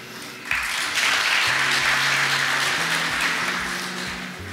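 Applause rises suddenly and holds strong at a real estate awards ceremony, many hands clapping over low background music, then easing slightly toward the end.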